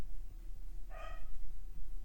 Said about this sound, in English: Don't mind my dog barking.